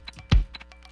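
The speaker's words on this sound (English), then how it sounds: "this is really just the sound of throwing something out on a Mac" A short crumpling, papery swoosh with a thumpy burst in the middle, the Mac trash-emptying sound used as a hi-hat, sitting amid faint clicky beat-like ticks, brief and close.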